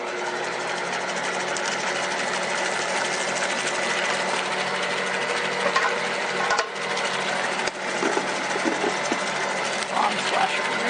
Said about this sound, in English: we need to mix this until the sugar dissolves